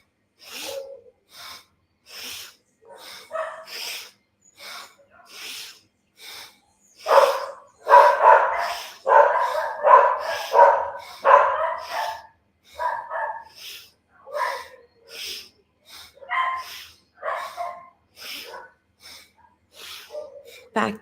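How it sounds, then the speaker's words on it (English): Several neighbouring dogs bark in an excited morning burst, sharp repeated barks from a short distance with a denser flurry in the middle, mixed with breathy gasps and snorts. "my neighbor's dogs are going crazy this morning"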